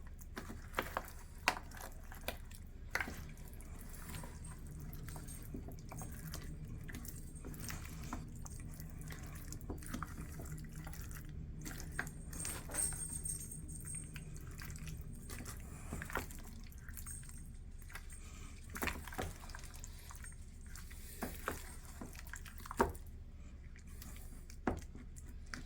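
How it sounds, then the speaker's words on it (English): A spatula folds blackberries into a cobbler batter mixture with wet, squishy, dripping sounds, soft and close, and occasional sharper clicks against the bowl. "take a spatula and then fold your blackberries into this mixture"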